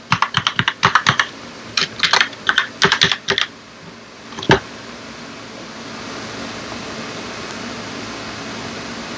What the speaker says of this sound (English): Key in the Wi-Fi password for TechTips 5.